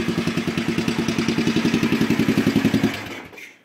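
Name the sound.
Yamaha 500 Thumper motorcycle engine idling after cold start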